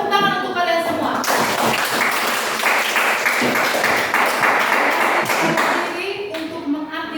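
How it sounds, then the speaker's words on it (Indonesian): Applause and clapping in a school classroom at the end of a lesson, a dense burst of many hands that starts abruptly after a second of voices and holds steady for several seconds before thinning out. "Tepuk tangan untuk kalian semua."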